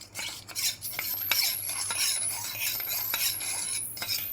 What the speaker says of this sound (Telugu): దాంట్లో కొంచెం మిల్క్ వేసుకుని కలుపుకోవాలి. వండలు లేకుండా బాగా కలుపుకోవాలి.